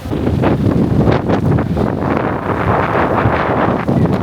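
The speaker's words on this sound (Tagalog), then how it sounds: "Sarap ng hangin." Strong wind buffets the microphone in a steady, loud roar while paraw sailing off Boracay, with faint water and boat noise underneath.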